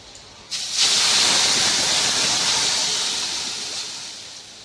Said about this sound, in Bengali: আলুটাকে লাল লাল করে ভেজে নিয়েছি। এবার এর ভেতরে আমি দিয়ে দেব জল।